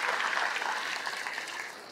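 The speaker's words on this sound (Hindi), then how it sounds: "ये तालियां इसमें कम क्यों आई" An audience at a NEET PG medical exam motivational talk in Delhi breaks into dense applause that fills the whole moment and fades slightly toward the end.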